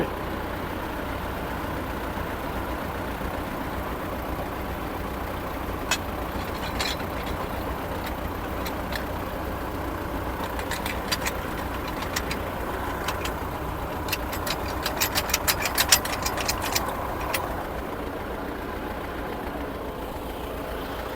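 A T-40 tractor engine runs at a steady idle, a continuous low rumble with some intermittent clicking and rattling in the middle stretch.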